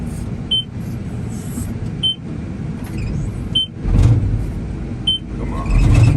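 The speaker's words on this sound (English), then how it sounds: "That beeping lets you know, hey buddy, your attachment's not attached." Heavy equipment fitted with a fork attachment that isn't pinned in place sounds a repeating warning beep, sharp high tones about every one and a half seconds over a low idling engine rumble that swells briefly.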